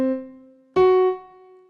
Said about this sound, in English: in between a perfect fourth and a perfect fifth is going to be a tritone